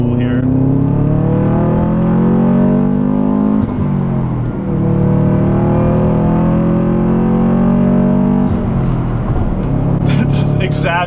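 A 2005 Saab 9-2X Aero with a 2-liter EJ205 turbo engine accelerates hard on a freeway, its loud cabin drone climbing steadily in pitch through two gear shifts, with a brief whoosh near the end.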